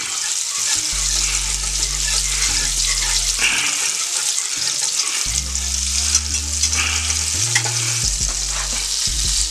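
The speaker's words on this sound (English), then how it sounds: "Alright, my pork is cooking away nicely" Pork sizzles and simmers loudly and steadily in a pan, a dense hiss that runs the whole time, with low musical tones underneath.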